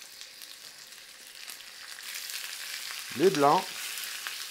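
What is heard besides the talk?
chicken legs browning in olive oil in a pan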